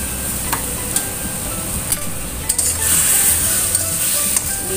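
Salted fish stews with coconut milk, tempeh and tofu in a pan, a constant loud sizzle broken by sharp scrapes and clicks of a spatula stirring against the metal every second or so.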